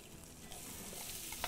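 Onion frying with bacon in a pan, a dense continuous sizzle heard up close with light stirring noises and a sharp click near the end.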